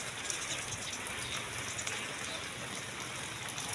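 Steady rain falls over Caloocan during a storm, a dense, even hiss of drops hitting surfaces at moderate loudness, continuous and unbroken throughout with no talk.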